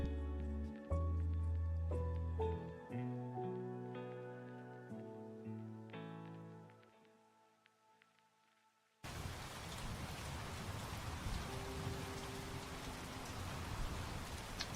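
Rain playing back from a video: after several seconds of tonal music, a steady, dense hiss of rainfall comes in suddenly and continues evenly to the end, with no talking.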